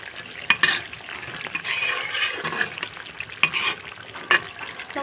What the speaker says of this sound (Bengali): ঢাকনাটা খুলে আর কিছুক্ষণ নাড়াচাড়া দিয়ে নিলাম।